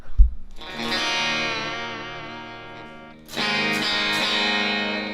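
A sustained electric guitar chord through a 1965 Super Reverb amplifier rings out with a warm, slightly distorted tone, then a second strummed chord follows and holds.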